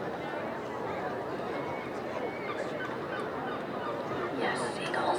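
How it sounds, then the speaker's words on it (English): Seagulls call and honk at an outdoor concert, mixed into a dense wash of crowd chatter and open-air ambience, with people talking throughout. "Yes, seagulls sound so good."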